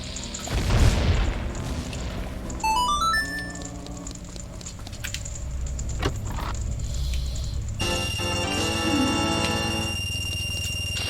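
A bomb blows up in the Zelda Majora's Mask video game, giving a loud boom near the start, followed by chiming game effects and a steady low background hum.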